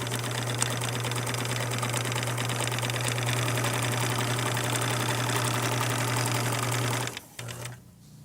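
A sewing machine stitching a zigzag seam on a fabric shoe bag, a loud, steady rapid mechanical whir running continuously for about seven seconds before it stops abruptly.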